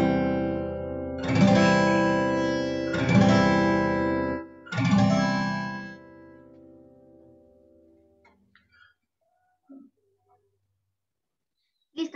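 An acoustic guitar chord strummed three times across all six strings, each ringing out warmly before fading into near silence.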